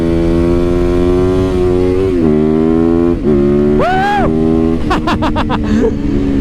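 A motorcycle engine runs loud and close, holding a steady throttle before two sharp revs rise and fall, followed by a quick string of rapid blips.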